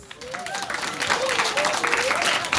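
An audience at a gathering breaks into applause, a dense wash of clapping that swells and holds steady, with a voice speaking or calling out over it.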